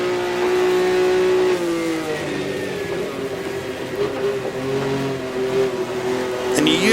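Engine of a 1958 Formula One car in the racing game Automobilista, heard under throttle as a loud, close, steady high-pitched drone. It rises and falls with gear and throttle changes while someone talks over it.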